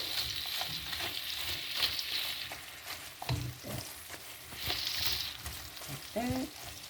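Cabbage and onions stir-fry in a pan alongside greens, with a continuous close sizzle and intermittent stirring scrapes and taps.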